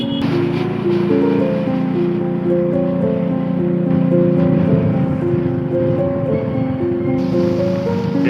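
Water rushes steadily at the bank of the Code River in Yogyakarta. It makes a loud, constant roar with wind-like noise and a steady tonal drone underneath, and no voices.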